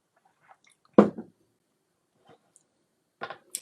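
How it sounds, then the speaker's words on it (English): A person taking a little sip of water, with soft wet slurping and swallowing bursts, one fuller sip followed by a few quieter mouth and liquid sounds in near silence. "so that means I can have a little sip of water"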